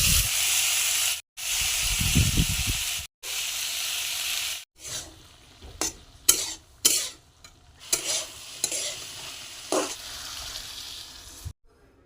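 Onion, figs and potatoes frying for a fish recipe, with bursts of loud sizzle broken by short gaps, then sharper stirring clatters and hissing steam as the ingredients are tossed in the pan.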